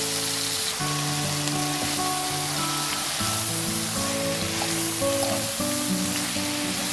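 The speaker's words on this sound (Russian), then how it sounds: "5 минут обжарю, добавлю томатную пасту и аджику." Onion and green beans frying in a pan, with tomato paste and adjika about to be added, give a steady close sizzle that runs on unbroken for the whole stretch, with no talking.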